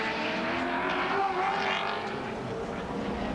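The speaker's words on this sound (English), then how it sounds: "So Peter Brock working hard in the Commodore" Holden Commodore race car at speed in the 1991 Nissan Mobil 500 at Wellington, a steady loud engine roar held for a few seconds under faint background commentary.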